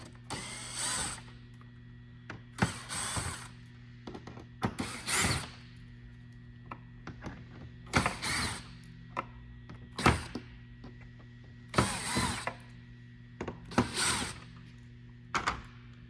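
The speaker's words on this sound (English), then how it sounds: "we're just going to use a screw gun and a Phillips bit to remove those real quick" A screw gun fitted with a Phillips bit backs out bumper screws on a 2022 Tundra in a series of short whirring bursts, roughly eight separate runs spaced by pauses, over a steady low electrical hum.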